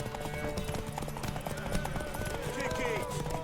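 Horse hooves clip-clop at a quick, steady pace in The Witcher 3, with a neigh rising near the end, all set against game music and background commotion.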